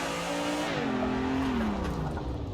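A car engine in a drifting race on a driving simulator drones loud and steady. Its pitch drops and then wavers as the car slides, and a broad tire-like hiss runs underneath.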